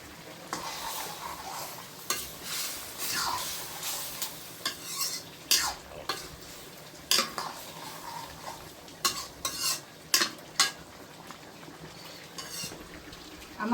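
A green banana and prawn curry frying in hot oil with cumin paste: a soft sizzle under a run of sharp metallic clinks and scrapes as a spoon stirs against the pot, close and irregular.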